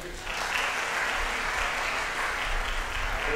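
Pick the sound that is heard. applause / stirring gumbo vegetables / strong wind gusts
applause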